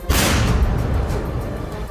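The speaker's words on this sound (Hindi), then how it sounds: "एक जोरदार धमाका करके उड़ा दिया" A single loud blast from demolishing a tunnel in Gaza hits suddenly and then rolls into a long, rumbling roar of debris that fades slowly.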